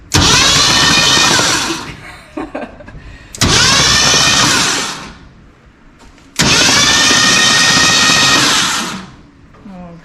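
A Ford 302 V8 fitted in a 1968 Chevy C10 cranks over with its spark plugs removed, the starter spinning it in three loud, steady bursts of a few seconds each, with short pauses between them and a voice briefly heard in a gap.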